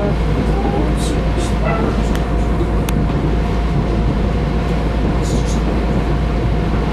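Steady, loud rumble inside a moving LIRR Main Line train, with a continuous low drone and a few brief high squeals and clicks from the wheels and cars.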